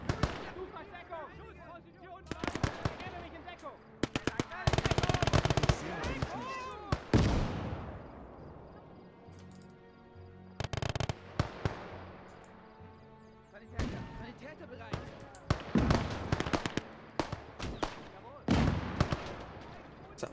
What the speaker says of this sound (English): mortar coming in hitting me now?